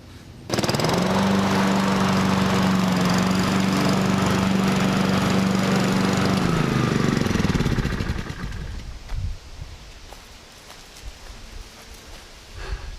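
Lawn mower cutting a home yard, starting abruptly and running loud and steady with a constant engine drone for several seconds before cutting out, leaving faint outdoor ambience.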